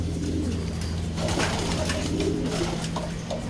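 Racing pigeon cooing in a loft, soft repeated low coos over steady background hum and rustle, close and fairly clear, no talk.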